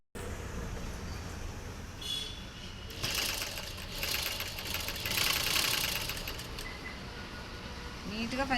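A sewing machine stitches the shoulder seam of a plain blouse in a fast mechanical rattle that runs in short bursts, close by, while someone talks over it.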